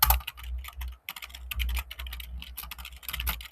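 Fast, uneven clatter of keys being typed on a computer keyboard while writing out code, close and fairly loud, with brief pauses between bursts and no voices.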